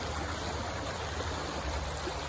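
Turbulent water flowing along a channel, rushing steadily and close with a continuous broadband wash and low rumble, no voices.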